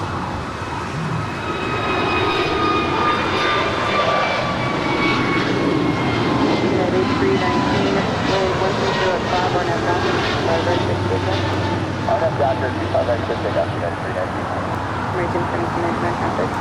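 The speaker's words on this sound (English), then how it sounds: "1799 departing to Philly. It's a brand new A321 Neo." A brand-new American Airlines A321neo jet departing LAX, heard as a steady, loud engine roar with whining tonal lines that holds at a constant level across the whole stretch, with no obvious talking over it.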